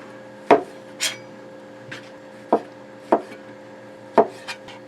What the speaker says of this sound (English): I also have 5 smaller size mushrooms that I'm just going to slice up here as well